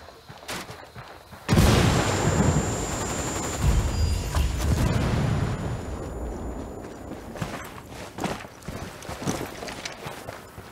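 Frag grenade blast in Ghost Recon Wildlands, a sudden loud boom followed by several seconds of rumbling debris and echo, then scattered thuds and crackles as it dies away.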